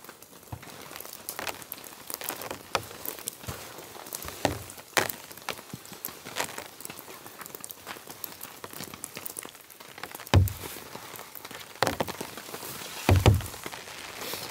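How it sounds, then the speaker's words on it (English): Rain falling on a tarp shelter at a cold mountain camp, irregular close taps and patters on the fabric over a soft hiss, with a few louder heavy drops striking now and then, no voices. "nice rain falling, and it's freezing cold"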